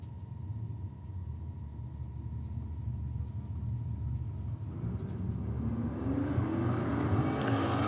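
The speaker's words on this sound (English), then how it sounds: "Next up, we have the Mercedes wagon in the Aeroflow lane taking on this absolutely gorgeous 57 Chevy down there." A Mercedes wagon and a 1957 Chevy drag race at Sydney Dragway, heard as a steady deep engine rumble that swells and rises in pitch toward the end as the cars accelerate away.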